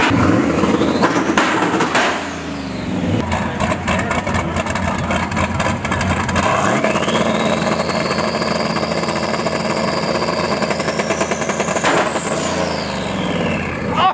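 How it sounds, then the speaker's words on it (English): A car engine at a drag race sits on two-step launch control, its rev-limited idle loud and steady with rough crackling pops and a passing engine rising and falling in pitch. "really they're having a two-step idle on the stands right now"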